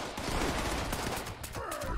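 A 10mm Crusader pistol fitted with a cryo mod fires in Fallout 76, a quick run of faint, crackling shots close together over about two seconds.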